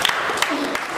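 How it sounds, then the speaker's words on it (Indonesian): Congregation clapping in a church service, a dense, fairly steady patter of many hands at moderate loudness with voices mixed in, lasting about a second. "Kita tepuk tangan sekali lagi buat Tuhan"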